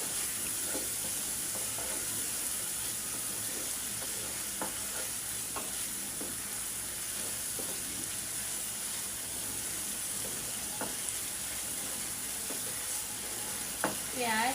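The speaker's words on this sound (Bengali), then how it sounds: "দিয়ে দিলাম কিছু জিরার গুঁড়া, হালকা মরিচের গুঁড়া," Cumin and chili powder fry in a pan for a chicken roast, a steady close sizzle with repeated scraping stir strokes, and there is no speech.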